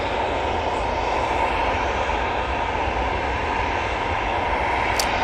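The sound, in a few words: Ryanair airliner arriving from Gdansk at Manchester Airport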